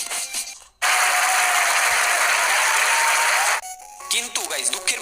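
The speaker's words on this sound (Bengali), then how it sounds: "এই জন্য সবার পক্ষ থেকে একটা হাততালি জোরে করে" A burst of loud, dense applause fills about three seconds after a gamer's voice, then cuts off as talk resumes.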